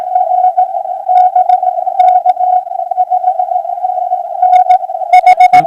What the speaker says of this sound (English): Trying to get rid of some of that background noise by dropping my RF